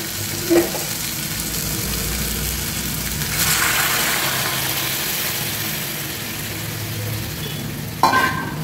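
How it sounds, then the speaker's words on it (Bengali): Warm water poured into a pan of frying spiced cauliflower curry, a steady close sizzle and bubbling with brief clatters of a utensil against the pan. "এবার একটু উষ্ণ গরম জল ঢেলে দিচ্ছি।"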